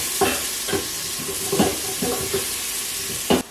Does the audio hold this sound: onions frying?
yes